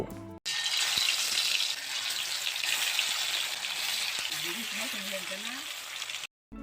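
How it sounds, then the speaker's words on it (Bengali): Tilapia pieces are frying in hot oil in a wok with a dense, loud and continuous sizzle that holds for several seconds, with faint background sounds underneath and a sudden stop at the end. "এবার গরম তেলে মাছগুলো ভাজার জন্য দিয়ে দিব।"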